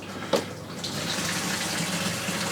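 Water rushes steadily as an aquarium tank drains through a siphon valve, a continuous close gushing flow after a brief knock at the start.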